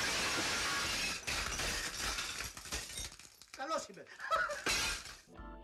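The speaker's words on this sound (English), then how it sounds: "he goes headfirst into an actual glass window and plays it off like it was nothing" A man crashes headfirst through a real glass window in an old Greek spy film, with a loud shattering burst early on, then scattered crashing and clinking debris amid shouting voices and film score.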